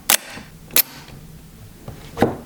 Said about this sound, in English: And the YF has a very nice shutter sound in itself.